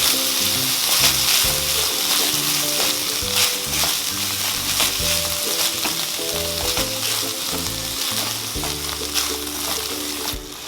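Soaked basmati rice frying in ghee in a pan, a dense continuous sizzle with occasional stirring scrapes, steady and close throughout with no voices.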